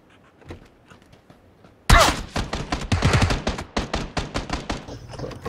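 Gunfire in the PC video game SolidiFy: quiet at first, then a sudden loud burst of rapid, sharp shots in uneven clusters, close and punchy, continuing to the end.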